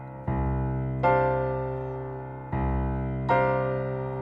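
Two minor-scale chord voicings on piano, played as two pairs of rich sustained chords, each struck cleanly and left to ring and fade before the next, close and moderately soft.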